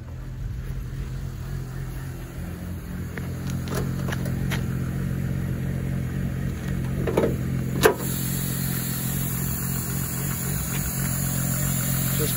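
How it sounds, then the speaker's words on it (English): A 1997 VW Winnebago Rialta 22RC engine idles steadily after starting, a low even hum with a few sharp clicks and one knock partway through. "Go ahead and fire this up."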